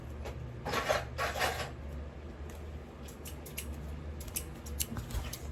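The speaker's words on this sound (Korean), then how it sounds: "가위를 가지고 일단 이 너덜너덜 부분 한번 잘라요" Scissors snipping the frayed part of a handmade Demon Slayer craft sword, several close crisp cuts in short bursts over a steady low background hum.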